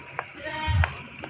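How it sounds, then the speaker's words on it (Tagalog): A goat bleats once, fairly close, a short wavering cry on a foggy, cold day in Baguio City, with faint background noise around it. "May kambing."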